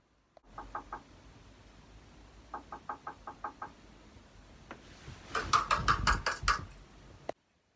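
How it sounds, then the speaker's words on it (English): Loud repeated knocking on a door in quick clusters of raps, with a heavier, faster flurry of bangs building near the end, close and echoing in a quiet house at night. "Someone's banging on our door really loudly."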